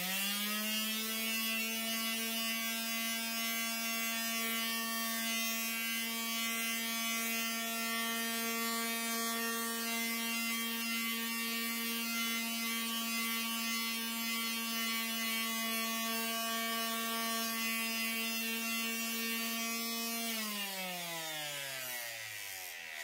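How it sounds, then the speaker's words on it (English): A golf wedge being sanded with 100-grit abrasive on a power tool: a steady, buzzing motor whine holds evenly for about twenty seconds, then drops in pitch as the tool winds down. "we've gone through and sanded it down"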